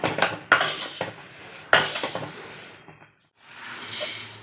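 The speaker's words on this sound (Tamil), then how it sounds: "இப்போ இதை ஒரு காஞ்ச பாத்திரத்தில் எடுத்து கொட்டிக்கணும்" Dry-roasted coriander seeds are tipped from a pan into a dry metal vessel, giving sharp clattering scrapes and rattling metallic clinks in two main bursts, then a brief quiet before softer rustling resumes; no voices.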